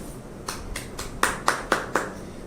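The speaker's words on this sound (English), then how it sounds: "Clap for yourself" Children clap in a classroom during a reading lesson, a few scattered claps at first, then four sharp, loud, evenly spaced claps close by, with no talking.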